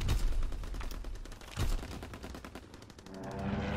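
Strafing-run gunfire in the Call of Duty video game, a rapid, loud stream of automatic shots with heavy low thuds, rolling on without pause.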